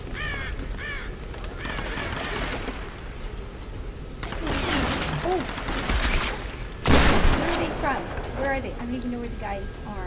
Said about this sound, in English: They shooting the other way and it just went past me.